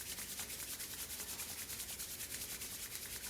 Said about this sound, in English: rubbing the palms together